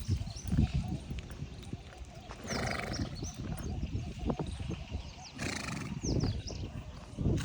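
Several horses, mares among them and some loose, give neighs and whinnies that cut through hoof clip-clops and general stable noise, fairly faint and a little distant, with occasional voices in the background.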